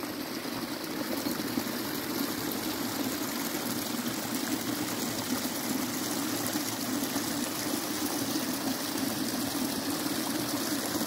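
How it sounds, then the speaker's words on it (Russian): A forest stream flows steadily nearby, a constant rushing and gurgling of water with no pauses or voices for the whole stretch. "И интересный ручей."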